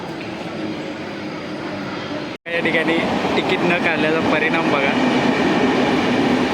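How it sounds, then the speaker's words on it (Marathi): A local train at a Mumbai railway station gives off a loud, continuous rumble and clatter of wagons. Someone talks over it from close by. "ट्रेन आलेली आहे आणि आता घरी जातो."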